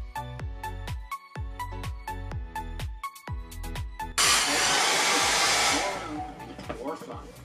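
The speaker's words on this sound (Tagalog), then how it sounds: "Pag binablower ko yung buhok ko dun sa direction na gusto ko" A hair dryer blows hair dry: a series of rhythmic tonal bumps and clicks comes first, then a loud steady rushing blast of air that continues to the end, close to the mic.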